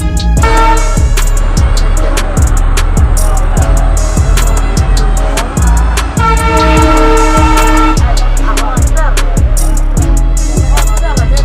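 A train running from Gorakhpur to Valmiki Nagar rolls along steadily, wheels clacking in a regular rhythm, with a horn blaring near the start and again midway, loud and close.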